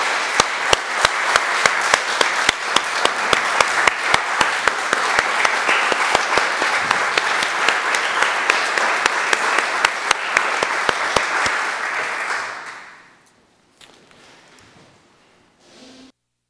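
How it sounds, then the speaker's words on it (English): A sustained round of applause from members in the Maine Legislature chamber during a confirmation session, dense steady clapping for about twelve seconds that then stops abruptly, leaving a quiet room with faint rustling. "I'd like to give them all a round of applause before we adjourn today."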